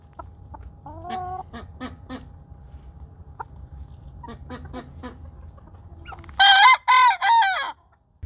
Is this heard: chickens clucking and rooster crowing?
yes